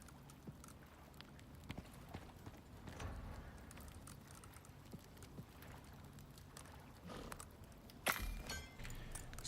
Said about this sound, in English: Sounds like the horse is outside swimming.